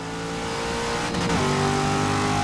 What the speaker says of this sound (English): the sound of these new Corvettes is incredible